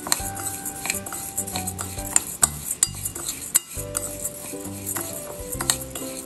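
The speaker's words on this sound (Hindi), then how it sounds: "इसके ऊपर हम डालेंगे चाट मसाला और इसे भी अच्छे से मिक्स कर लेंगे" A spoon stirs fried moong dal namkeen with chaat masala in a metal bowl or pan, making a busy run of scraping clinks and sharp taps that sound close and fairly loud.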